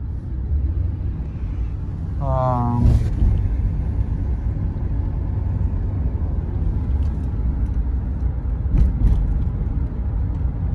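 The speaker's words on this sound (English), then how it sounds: "Oh, there's a car." A single car passes along an empty New York City street in Chelsea near Hudson Yards, a low rumbling whoosh that rises and fades over steady city hum, with a brief tonal chirp near the start.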